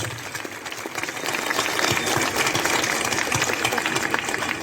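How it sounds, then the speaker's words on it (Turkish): A crowd at a political speech by the Çukurova mayor breaks into loud sustained applause, dense clapping that swells after the first second and holds steady. "onlara da buradan büyük bir alkış istiyorum. Büyük bir alkış."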